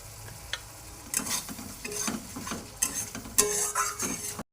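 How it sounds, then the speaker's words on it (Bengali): Lemon chili fish masala is stirred in a sizzling pan, with repeated scraping strokes of a utensil against the metal over a steady frying hiss, close and with no voices. "ভালো করে রান্নাটা নাড়িয়ে নেবেন।"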